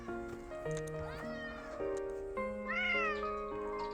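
Stray cats meow insistently at feeding time, several rising and falling meows close by over a steady tonal background.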